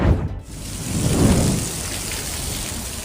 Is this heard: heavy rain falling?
yes